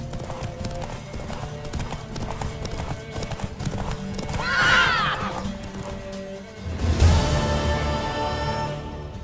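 Horse hooves clip-clop steadily in The Witcher 3 video game, joined midway by a loud mare's whinny and later a heavy thud, all over a background music bed.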